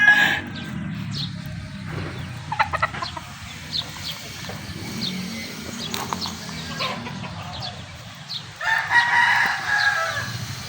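Roosters and hens at a gamecock farm in Imus, Cavite crow and cluck in repeated bursts, with a loud crow near the end over steady farmyard background noise.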